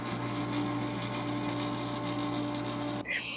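A Frigidaire Gallery nugget ice maker running loudly, a steady mechanical hum and whir with a constant tonal drone, continuous and close, cutting to a different noise at the very end.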